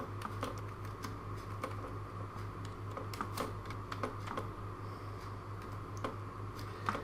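Typing on a computer keyboard to enter login details for an online tax portal, with a steady run of close, light key clicks and occasional heavier taps over a constant low hum, no voices.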